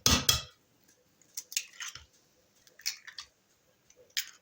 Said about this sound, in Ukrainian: беремо каструльку, вбиваємо сюди яйця